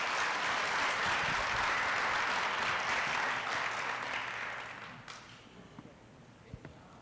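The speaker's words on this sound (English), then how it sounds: "Let's give her one more round of applause." Audience at a city council meeting gives a round of applause, steady and fairly distant, then fading out over the last seconds into a few scattered claps and room noise.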